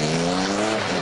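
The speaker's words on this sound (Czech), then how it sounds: "Je to 6-válcový motor, vodou chlazený, tady je chladič." A water-cooled 2442 cc V6 motorcycle engine of 246 hp running, a loud, close, sustained droning roar with a steady tone and no talking.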